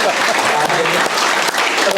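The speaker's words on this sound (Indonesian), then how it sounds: "Tepuk tangan." Dense, steady applause from an audience at an executive networking seminar, loud and continuous throughout with no gaps.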